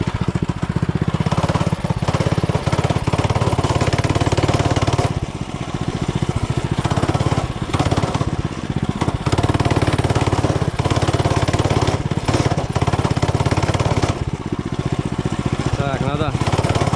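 A small engine on a home-built mini bike drones loud and close for the whole stretch, a rough steady buzz with brief dips and surges in power.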